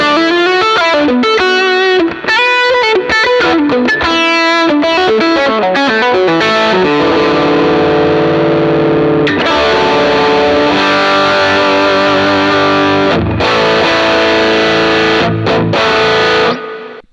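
An electric guitar on its bridge pickup plays through a distortion pedal, starting with choppy, separate chords and stabs and moving into thick, sustained distorted chords that ring loud and close before cutting off.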